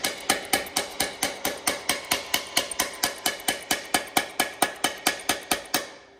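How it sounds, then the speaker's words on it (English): Steady, evenly spaced hammer taps ring out one after another, about four per second, sharp and close, with no voices, while working on a 4000hp Chevrolet Camaro. "we need a little hammer action right here"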